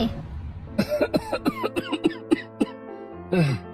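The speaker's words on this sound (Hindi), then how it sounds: "जो बीमारी की वजह से कमजोर हो चुके हैं और खांस रहे थे" A weak, sick elderly man coughs in a rapid burst of harsh, throaty hacks, about a dozen close together, then pauses and gives one more rough cough, close and clear.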